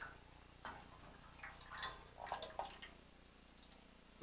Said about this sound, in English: Let that drip.